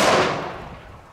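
A loud blast from a Mini Thor firecracker with a 0.15 g charge, set off on a small pot, is caught in its booming, echoing tail as it steadily fades over about a second.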